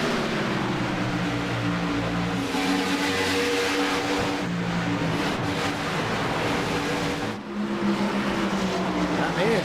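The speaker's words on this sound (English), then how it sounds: "Just listen in to these cars when they go in the corner." NASCAR race cars at Talladega Superspeedway, a continuous loud engine roar as the pack sweeps through a corner, pitch sliding and overlapping, with a commentator talking over it.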